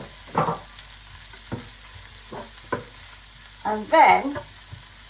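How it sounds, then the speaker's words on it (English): Onions and small sausage pieces fry in a pan with a soft, steady sizzle, broken by several scraping stirs and a louder clatter near the end; a voice briefly speaks. "my onions are translucent and are picking up some colour now, so I'm just going to add back the little bits of sausage"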